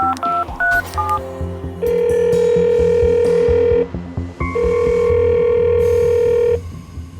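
A telephone dials with a quick run of keypad tones, then two long ringback tones sound loud and clear as the call goes through, with no talking.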